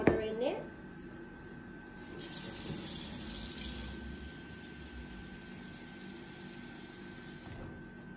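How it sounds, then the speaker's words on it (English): Water is poured steadily into a container of beans for a seed sprouting experiment indoors. A faint, continuous trickle and splash runs for several seconds after a brief clatter at the start. "now we just need to put some water in it"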